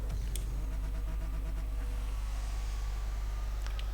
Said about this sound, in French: la voiture a sauté toute seule et le boost s'est enclenché